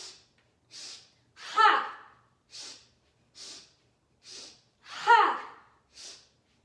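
Forceful open-mouthed exhalations from a breath of joy yoga breathing exercise, short breathy bursts in a steady rhythm with two louder, voiced huffs standing out, close and clear in a quiet room.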